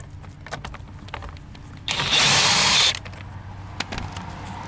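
A power driver spins out the 8mm screws holding a rear door speaker grill on a Toyota Century, a single steady whir of about one second, close and loud, amid quiet handling noise.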